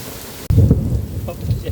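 A thunderstorm breaks over a state park campsite with a sudden loud rumble of thunder and steady rain pattering on surfaces, heard up close and filling the scene.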